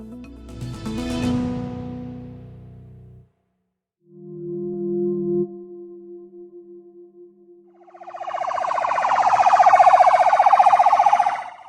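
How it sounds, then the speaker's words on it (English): An ambulance siren sounds in Gaza as it races to an airstrike site, loud wailing and yelping tones in separate bursts with a short silent gap, then a strong rising wail, no talking. "An ambulance races to the site of an airstrike in Gaza."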